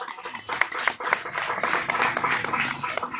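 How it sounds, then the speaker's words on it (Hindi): Hands clap in a burst of applause at a local cricket tournament final on a village playground, fairly close and crowded, rising and holding steady for a few seconds with uneven individual claps. "एक बार जोरदार ताली से स्वागत करेंगे हमारे आयोजक चितरंजन भैया का"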